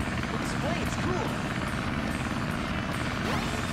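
A propeller plane engine drones in the video game Sonic Adventure, a dense, continuous mechanical roar that fills the entire moment, with game sound effects chirping over it.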